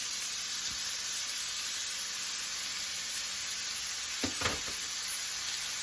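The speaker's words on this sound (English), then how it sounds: "So all we're going to do is just fry these on up." Steady sizzling hiss of pork sausage patties frying in a pan, continuous and even, with a few faint clinks of a utensil near the end.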